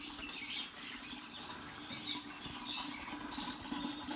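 Small birds chirp and tweet faintly through a quiet morning in a hill village near Almora, Uttarakhand, scattered high calls over soft background hiss, no one speaking.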